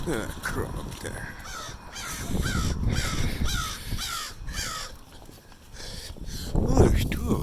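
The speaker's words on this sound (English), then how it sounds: "A crow up there." Several crows caw outdoors in repeated harsh calls spread through the clip, moderately near, with a person talking quietly underneath and some background rustle.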